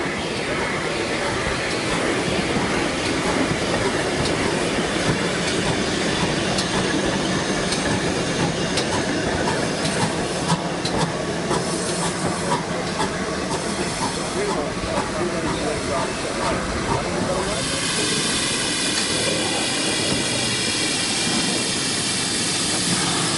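Steam locomotive Hagley Hall runs around its train at the Severn Valley Railway spring steam gala, a loud continuous hiss of steam and rumbling motion sustained throughout, with faint rhythmic chuffing and ringing rail noise near the end.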